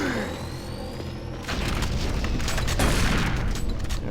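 Pistol fire in the sci-fi shooter game Doom 3, a burst of loud, dense gunfire and booming impacts that swells after a quieter opening and holds steady to the end.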